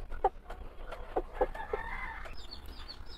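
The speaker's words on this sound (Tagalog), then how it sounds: "malapit na to magitlog ang hen" A frizzle hen clucks in a few short, soft calls close by in a backyard setting, with a quieter chirp trailing at the end and no talking.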